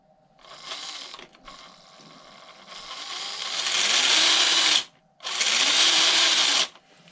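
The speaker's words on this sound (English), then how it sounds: "Just a little bit of throttle, and obviously with the gearbox and that transfer case" An RGT EX86010-CJ 1/10 scale RC crawler's electric motor and split-transmission gearbox whine under throttle in two rising bursts, a high mechanical gear buzz swelling louder then cutting off, with no talking.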